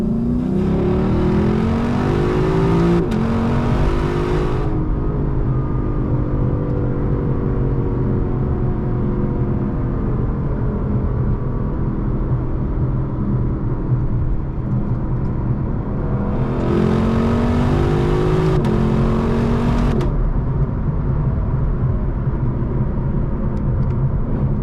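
A 2025 Lexus LC 500 engine revs hard toward 7,300 RPM, climbing loud and close with a rising howl, easing off, then surging again near the end, heard from inside the car with no talking.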